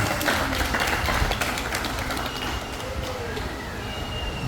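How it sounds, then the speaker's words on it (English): A small theater audience at a parrot show claps steadily, moderate and a bit distant, with some voices mixed in underneath. "Why don't we give them a nice round of applause for showing us their traits?"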